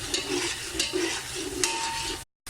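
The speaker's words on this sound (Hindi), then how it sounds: "प्याज को ब्राउन होने तक पकाएंगे" Onions for Hyderabadi biryani sizzle steadily in a pan as they brown, while a spoon scrapes and stirs in repeated strokes, close and moderately loud, with no talking.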